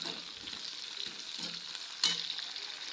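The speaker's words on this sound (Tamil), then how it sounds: "இப்போ நாம் இது கூட கருவேப்பிலையை சேர்த்துக்கணும்." Curry leaves sizzle in hot oil with green chillies in a pan, a steady bright crackling hiss with soft stirring clicks and a sharp burst of spitting near the two-second mark.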